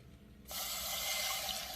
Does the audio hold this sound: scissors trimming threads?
no